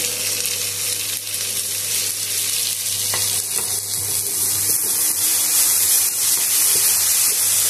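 Tomato paste and chili sizzle and fry steadily in a pan, a constant loud hiss with faint scraping from stirring, no voices.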